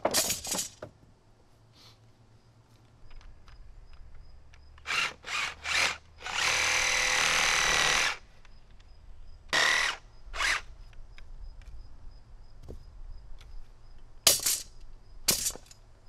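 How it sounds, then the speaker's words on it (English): A reciprocating saw cuts wood for deck stair stringers in short, loud bursts, with one longer sustained cut among them and quiet gaps between. "I used the handsaw first, but then tried the reciprocating saw,"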